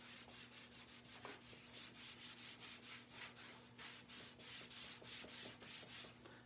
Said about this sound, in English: I'm going to put a little bit more wax over here.